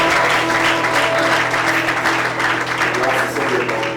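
Wedding congregation at a Burkinabè marriage ceremony applauding and cheering, dense continuous clapping with voices mixed in, loud and sustained throughout.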